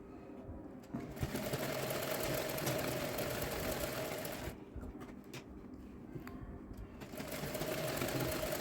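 A sewing machine runs steadily close by, stitching fitting tucks into a ready-made dress top, a fast whirring rattle in two long bursts separated by a short pause.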